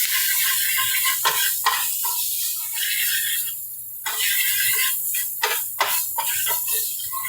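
Shrimp cooking in a pan while being stirred, a bright steady sizzle broken by scraping strokes and short bursts of utensil movement.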